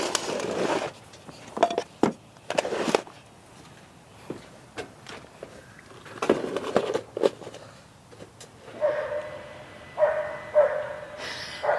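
Dog barking indoors during garden seedling transplanting work, several sharp, moderately loud barks scattered across the clip among clattering handling noises, with no talking.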